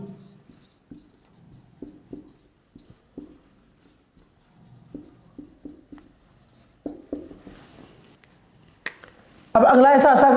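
Pen writing by hand in Hindi on paper, a string of short scratchy strokes and taps close by at a low level, with no one speaking, followed by a sudden loud burst of noise at the very end.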